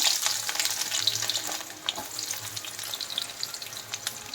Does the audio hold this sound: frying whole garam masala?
yes